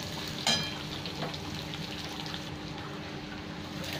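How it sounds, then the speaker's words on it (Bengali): Onions fry in a pan with a faint, steady low sizzle and one brief clink of a utensil early on, quiet and close. "এটা আরও 1-2 মিনিট ভেজে নেব, তারপরে আমি চিচিঙ্গিটা দেবো।"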